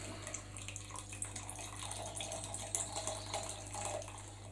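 Tap water runs in a steady, moderately loud stream during the sparge step of an all-grain home brew of a white session IPA, with no talking.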